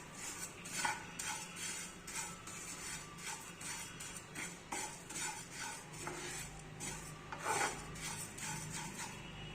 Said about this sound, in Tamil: இப்போ இதை இந்த பேனில் கொட்டி லேசாக வறுத்துக்கலாம்